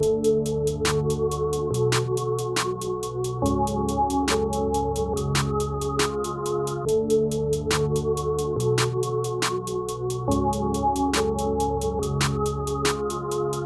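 A type beat plays loud and steady, with layered, offset, pitched-down hi-hats ticking in a fast regular pattern over sustained melodic tones that shift every couple of seconds, and no voice.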